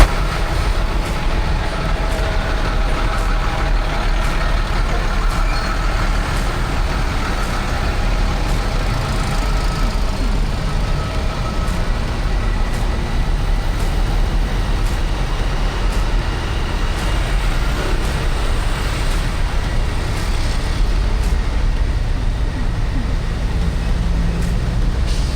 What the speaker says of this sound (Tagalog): Grabe, bumper to bumper ang traffic.